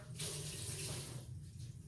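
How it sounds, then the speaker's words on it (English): A kitchen faucet runs while hands are washed during fish cooking, a close, steady splashing stream of water with no voices over it. "let me get my hand to wash"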